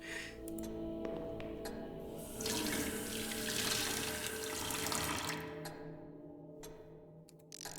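A sink tap in Deep Sleep: Labyrinth of the Forsaken pours a steady stream of water, a continuous hissing rush that swells midway and then cuts off near the end.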